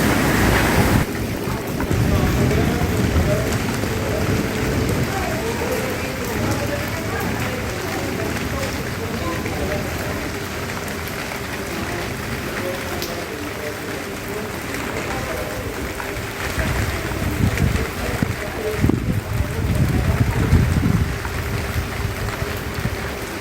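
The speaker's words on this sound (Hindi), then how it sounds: "आप देख रहे हैं बारिश से जलमग्न हो रहा है सारे को।" Heavy rain pours down in a steady, dense hiss and patter that runs throughout, with a voice talking over it.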